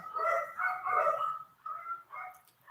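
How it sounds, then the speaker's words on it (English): Several dogs bark in repeated bursts from nearby, a rapid cluster of yaps and barks followed by a pause and a couple more, heard alone without talk. "I don't know if y'all hear my dogs going off."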